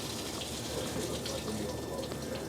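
Dark, crud-filled flushing liquid gushes steadily out of a 7.3 Powerstroke diesel's air-to-air cooler during its third flush, a continuous splashing rush of fluid at constant loudness.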